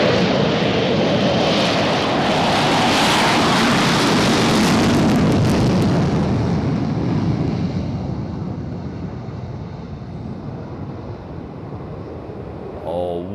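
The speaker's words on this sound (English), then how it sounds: "Oh, what a fabulous takeoff. I used to love that aircraft. Absolutely wonderful, the Nimrod." Nimrod aircraft taking off, a loud jet roar building to a powerful peak then fading into the distance as it climbs away, with wind buffeting on the microphone.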